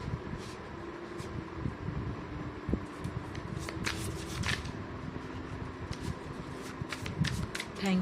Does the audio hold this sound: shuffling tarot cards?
yes